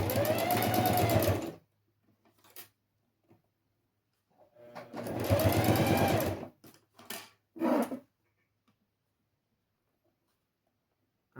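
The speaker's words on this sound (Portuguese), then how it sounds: "vamos fazer aqui a costurinha" A sewing machine stitches a satin fabric box pouch in two bursts of rapid whirring, each with a short follow-up run, separated by quiet pauses with faint handling noises.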